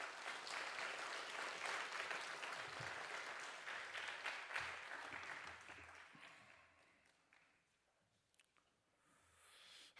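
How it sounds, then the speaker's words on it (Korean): Congregation applause at a church worship service welcoming a pastor to the pulpit, quiet and distant, filling the first half and then fading away to near silence. "우리 박수로 목사님 환영하겠습니다."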